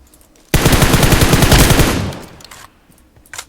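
A loud, close burst of automatic machine gun fire in PUBG Mobile rattles for about a second and a half, then fades, followed by a couple of faint clicks.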